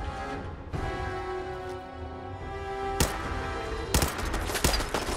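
Gunfire in Fallout 4 crackles in a steady, dense stream, with several sharp, loud reports punching through near the end and no talking.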